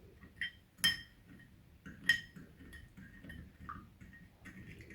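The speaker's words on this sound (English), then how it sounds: "And then we stir it" A spoon stirs baking soda and water in a container, making a few sharp clinks and ticks against the side, with light scraping in between.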